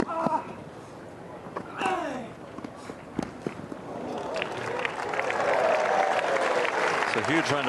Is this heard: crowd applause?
yes